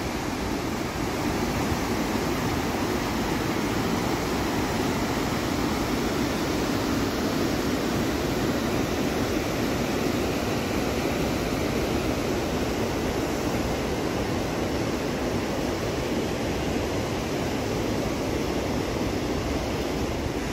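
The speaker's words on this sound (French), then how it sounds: "il y a le torrent qui est de ce côté" The Vièze, a rushing mountain torrent, gives off a loud, constant roar of turbulent water that stays steady throughout with no voices.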